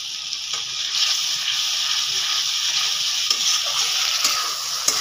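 Onions frying in a pan over a clay stove while chicken is being cooked, giving a steady close sizzle and hiss with faint stirring clicks throughout, no talking.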